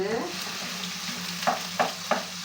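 Onions frying in a pan with a little butter and oil, a dense close sizzle with a few sharp spatula taps near the end, short and without speech.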